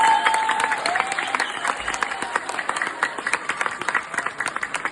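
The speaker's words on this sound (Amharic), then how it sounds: "እንደገና ሞቅ ያለ ጭብጨባ ለራ" Warm applause from an audience at a poetry reading, a steady wash of clapping that stays busy and fairly close throughout, with faint crowd murmur underneath.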